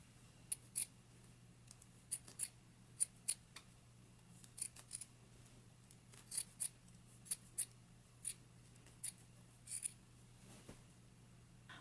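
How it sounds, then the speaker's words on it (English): Sharp metallic snips of scissors trimming a sewing seam allowance on a jumpsuit near its waistband, quiet, close, irregular cuts in short bursts with pauses, no talking. "we can go ahead and trim our seam"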